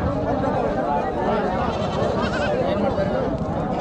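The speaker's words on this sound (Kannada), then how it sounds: "ಇವು ಮರಿ, ಇದು ಆಡೋ ಮರಿ?" Young goats bleat at a goat bazaar in Kolhar, a livestock market with no sheep for sale, their cries overlapping in a steady, dense chorus amid constant crowd talk and market bustle.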